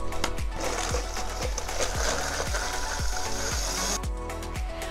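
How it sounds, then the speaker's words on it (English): A blender whirs steadily with a rhythmic clunking as pieces of ginger and turmeric churn in water, the motor holding a constant loud pitch before a brief change near the end. "Okay, then you're going to blend it up."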